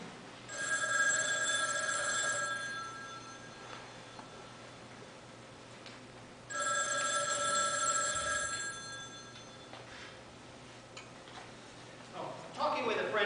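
A telephone bell rings in two long bursts several seconds apart, its tone clear over a steady low background hum and faint ticking, with quieter gaps between the rings.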